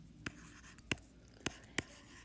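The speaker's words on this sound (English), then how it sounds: "So I'm going to write down my numbers." A pen or pencil tapping and marking on paper while writing numbers, four distinct short ticks spaced unevenly over a quiet, faint background.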